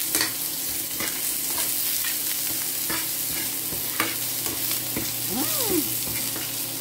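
Onion, ginger and garlic sautéing in a pan, a steady close sizzle with scraping stirs and a few utensil knocks, no talking.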